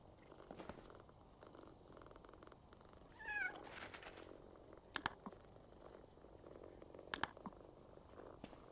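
A cat purrs close by in a steady, soft, low rumble, with a brief chirping meow partway through and a couple of sharp clicks or taps over the top.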